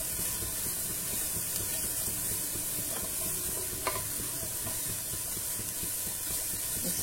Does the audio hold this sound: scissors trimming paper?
no